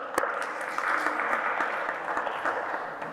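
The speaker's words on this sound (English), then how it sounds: "Just give them a round of applause, please." An audience applauds at a design thinking workshop session, a steady, dense patter of many hands clapping for several seconds at even loudness.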